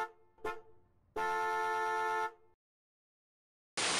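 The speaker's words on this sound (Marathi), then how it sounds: "कारचा हॉर्न वाजत आहे" A car horn honking: a short toot, then one long steady blast lasting about a second, followed by silence and a burst of noise at the end.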